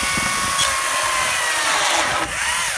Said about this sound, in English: it doesn't sound like a real chainsaw, yet it's got all the power of a traditional chainsaw